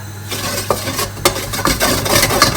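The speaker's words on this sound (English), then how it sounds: "basically you're going to stir around the flour for like 2 minutes and you can't stop mixing it" Flour being stirred in a pan for béchamel sauce, with a spoon scraping and knocking against the pan in short, uneven strokes over a low background hiss.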